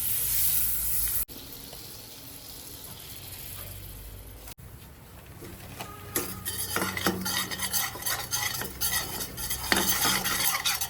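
A spoon stirs and scrapes roasting white sauce in a pan with a light sizzle. It starts quiet, then turns into busy, close scraping and clinking in the second half.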